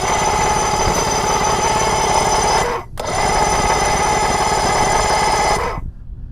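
A 1984 Evinrude 65hp outboard engine fires and runs loudly and steadily with a rough, buzzing drone. It cuts out briefly, catches again and keeps running, then stops abruptly.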